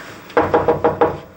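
Five sharp knocks rap on a door in quick succession, close and loud, each hit fading fast, with no voices.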